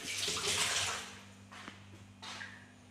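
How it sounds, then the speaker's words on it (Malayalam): Water poured into a pot of raw jackfruit seed, mango and bitter gourd curry, a broad splashing rush for about a second, then softer trickles and a brief second pour near the end, with no talking. "കുറച്ചധികം വെള്ളം ചേർത്തു"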